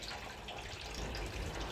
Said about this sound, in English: So it is better to clean thoroughly under the tap water, face by face.